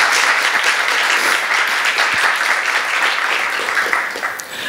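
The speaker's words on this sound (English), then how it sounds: "give them a round of applause while we are at it" Audience at a vocal arangetram concert in London applauds the artists taking the stage, a full, sustained wash of clapping that tapers slightly near the end.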